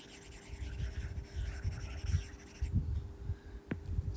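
A board eraser rubs back and forth across writing in quick, close scrubbing strokes, then stops, followed by a single sharp tap.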